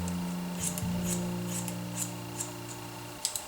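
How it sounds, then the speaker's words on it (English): Scissors snip while trimming points during a men's haircut, a few short, crisp, close cuts over a steady low background hum, with no talk. "If you see points, you kind of want to cut those because we want this all to be straight."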